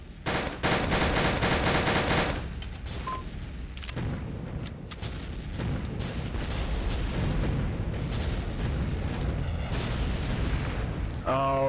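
Game battle in the Empires mod: dense bursts of gunfire and heavy artillery booms roll on continuously, loud and close, with some talk mixed in.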